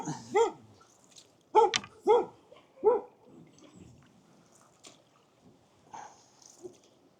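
Dogs barking near a river during a canoe trip on the River Waveney, a few sharp barks in bursts at moderate distance, with faint water sounds between them.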